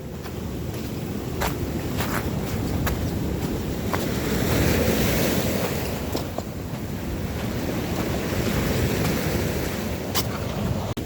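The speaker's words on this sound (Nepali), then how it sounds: "उहाँहरू त कस्तो ठुलो छाल आइरहेको छ।" Ocean waves wash onto a beach along a coastline in a steady, loud rush of surf, with wind buffeting throughout and a swell building toward the middle.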